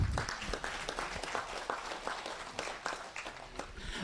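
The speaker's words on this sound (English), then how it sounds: "Let's give a quick round of applause for all of them." Audience applause at a goat sale, a crowd clapping steadily and fairly faint in a large room, dense clapping carrying on without pause.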